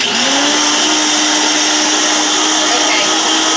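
Blender whirring at full speed while mayonnaise is made from simple ingredients, a loud, close, steady motor whine with a constant pitch for the whole stretch and no talk.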